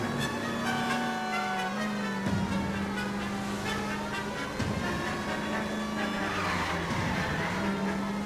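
A car speeds away with tires skidding and squealing, its engine droning loudly and close throughout, the whine shifting as the tires screech in repeated bursts, with no voices.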